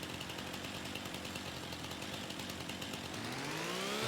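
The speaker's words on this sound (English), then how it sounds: "And right here I got my little chainsaw." A small chainsaw in a farming video game runs with a steady buzzing drone as it cuts trees, then revs to a higher pitch near the end, loud and alone without talk.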